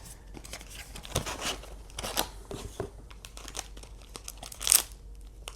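A plastic wrapper around a small two-cookie package of jam-filled shortbread sandwich cookies crinkles and rustles up close as it is pulled open, with irregular soft crackles and a sharper crinkle near the end.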